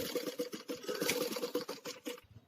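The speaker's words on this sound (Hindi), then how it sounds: "जो भी मेरे पार्ट्स हैं जैसे भी है, मैं इनको एक सिलाई ऑन साइड में ऐसे इसकी स्टिचिंग ले लूंगी।" Sewing machine running a fast, steady stitching burr as it sews net blouse pieces, close and continuous, stopping abruptly just before the end.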